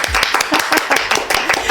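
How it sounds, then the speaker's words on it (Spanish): People in a radio studio clap loudly and close at hand, a quick, busy patter of several pairs of hands in overlapping bursts. "Por favor, aplauso."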